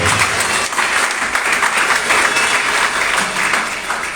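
A church congregation applauding and cheering for Jesus during a sermon, a steady, loud wash of clapping from many hands that holds evenly for several seconds without a break.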